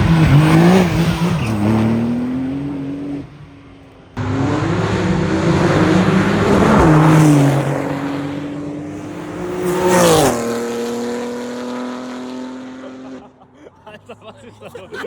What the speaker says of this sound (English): But I already hear some cars drifting over there.